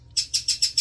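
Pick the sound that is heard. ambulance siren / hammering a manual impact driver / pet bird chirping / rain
pet bird chirping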